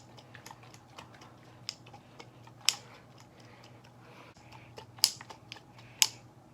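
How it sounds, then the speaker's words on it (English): Glass marbles rattle inside a jar as cream is shaken into butter, heard as scattered light clicks and taps with a few sharper knocks over a low, steady hum. "And you'll start to hear the marbles again."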